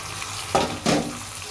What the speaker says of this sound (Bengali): এই পেঁয়াজের ভিতরে মাংসটাকে ভালো করে ভেজে নিব।